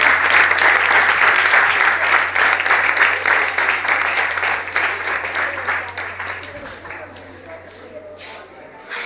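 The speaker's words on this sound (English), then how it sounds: "let's give a round of applause" Loud audience applause at a college spelling bee event, sustained rapid clapping from a large crowd that gradually tapers toward the end, with voices mixed in.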